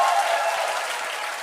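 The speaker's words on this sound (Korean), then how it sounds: "믿는 사람 박수 한번 치겠습니다." A seated audience at a talk claps together in a short, dense burst of applause that fades slightly toward the end, with no speech over it.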